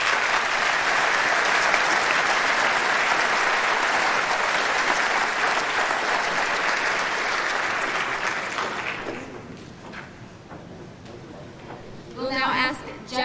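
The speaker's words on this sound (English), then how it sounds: "And a round of applause for the Binghamton honorees." An audience at a veterans' tribute ceremony gives a sustained round of applause for honorees, dense steady clapping that fills the room before fading out, with a voice briefly heard at the end.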